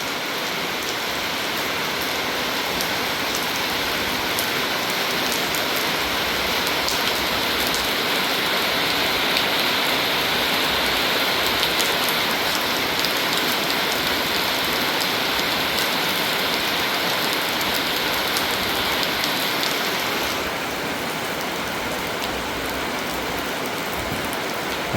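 Steady rain falls in a continuous, even hiss, the first rain of the year after hot, humid weather, dense and close throughout with no voices.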